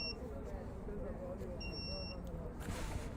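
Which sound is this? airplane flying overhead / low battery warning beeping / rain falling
low battery warning beeping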